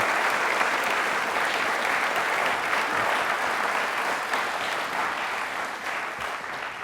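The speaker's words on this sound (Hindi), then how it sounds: "तालियां एक बार जोरदार पूरी दूरदर्शन टीम के लिए" An auditorium audience at a Rajasthan quiz show bursts into loud, sustained applause for the Doordarshan TV team, a thick wall of clapping that holds steady throughout.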